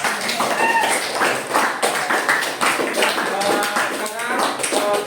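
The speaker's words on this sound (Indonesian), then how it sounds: "Aplaus untuk kita semua." Classroom applause from students, a dense run of hand claps at steady loudness lasting several seconds, with some voices mixed in.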